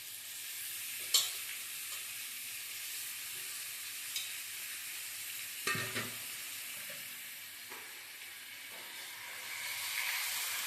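Steady, bright sizzling of chicken pieces frying in a pan without added water, with occasional scrapes and knocks of stirring; no one speaks.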